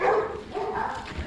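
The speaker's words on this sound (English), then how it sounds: "There's definitely some big dogs there." Big dogs bark at a campsite near Wells-next-the-Sea in Norfolk, giving a short burst of deep, close, loud barking with no talk.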